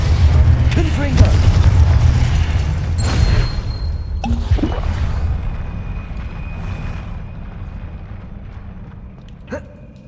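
Spell blasts and magical explosions from the video game Hogwarts Legacy boom heavily at first, then sputter into crackles, swooshes and lighter hits that gradually subside, with a voice calling out over them.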